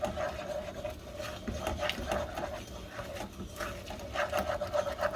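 Gluten-free flour being stirred into melted butter in a pan, giving a steady scraping, rubbing texture of a utensil against the pan bottom, moderately close and continuous with small bursts of stirring.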